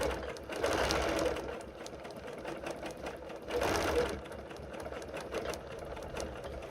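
A sewing machine stitching a quilt seam runs in steady rapid needle chatter at moderate distance, speeding up in two short surges, with a voice talking softly over it.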